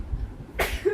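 One short, sharp sneeze bursts out near the middle, loud and close, following a stretch of quiet room noise.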